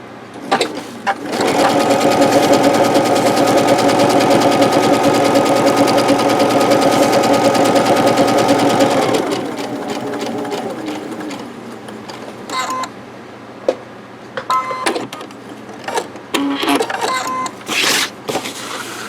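A sewing machine runs steadily for about eight seconds while edge stitching with red thread, then slows and stops, followed by a few brief mechanical clicks and handling sounds.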